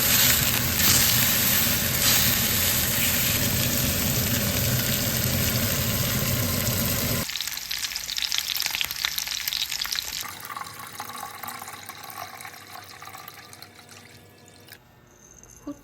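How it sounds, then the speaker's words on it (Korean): Small pieces of pork belly with green onion pan-fry without oil, a loud close crackling sizzle that suddenly drops and then continues more faintly with light scraping and stirring. "팬에 기름을 두르지 않고 그냥 노릇노릇 굽습니다."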